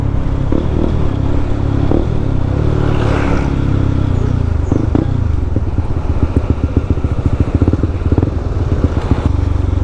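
A Honda CB150X motorcycle runs at top speed on a wide, open provincial road, its engine droning steadily and loudly up close, with rushing wind and a burst of rapid rattling clatter in the second half.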